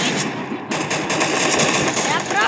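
Rapid gunfire in a shooting video game: continuous loud automatic-weapon bursts fill the whole moment, harsh and close, with a voice talking underneath.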